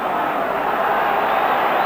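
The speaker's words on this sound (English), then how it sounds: "Really excellent crowd in Ibrox today" A football crowd of nearly 40,000 at Ibrox stadium during a 1989 Rangers v Dunfermline match, a steady broad roar of massed voices holding level throughout, with no distinct cheers rising out of it.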